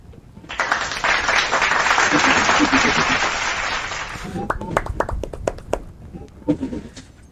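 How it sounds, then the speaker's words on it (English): An audience bursts into steady, dense applause that holds for about three and a half seconds, then fades out into scattered taps and a voice speaking. "Give them a big round of applause."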